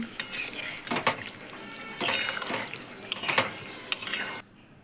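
A spatula stirs potol alu curry with garam masala in a pan, giving repeated metallic scrapes and clinks in short bursts over a faint sizzle, close up, ending in near silence.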